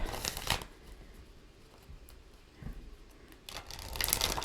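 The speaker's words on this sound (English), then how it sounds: "Give it two more shuffles." Tarot cards are shuffled in quick bursts, a crisp riffling flutter at the start, a brief one in the middle and another at the end, close and fairly quiet.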